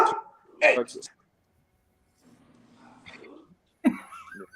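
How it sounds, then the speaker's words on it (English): A dog lets out a few sharp barks nearby, first at the start and again after a pause, with muffled voices talking in between. "Stupid dog."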